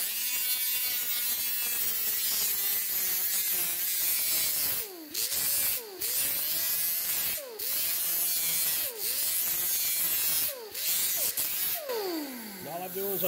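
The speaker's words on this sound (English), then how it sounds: "So all I'm going to do is I'm just going to grind it back." An air-powered grinder with a 24 grit disc on a backing pad grinds rust off car metal around a window, a loud whining buzz that repeatedly cuts out and spins back up in short bursts.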